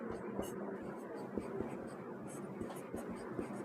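A pen scratches across paper as a math solution is written out by hand, close, soft rhythmic strokes and taps running steadily through the short stretch with a faint murmur beneath.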